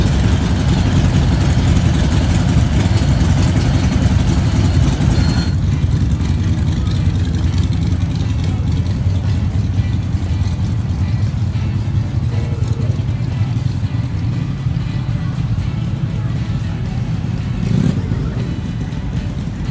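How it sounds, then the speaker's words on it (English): NASCAR race cars at Brands Hatch circuit, a loud continuous low engine roar filling the whole stretch, with a sharp shift partway through as the mix of passing cars changes; spectator speech may be faintly mixed in. "I'm here at Brands Hatch watching the NASCAR race. Really quite phenomenal. The sound of these engines is like nothing else."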